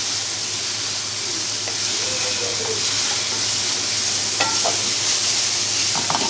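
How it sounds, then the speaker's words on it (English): Prosciutto fries in a pan with a loud, dense, continuous sizzle and hiss, with occasional stirring clinks and scrapes, close up and without talk. "We're going to fry this up basically till the pasta's done."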